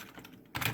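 Keys on a computer keyboard are tapped while a command is typed to install a Python library, ending in a short, louder burst of quick keystrokes close to the microphone.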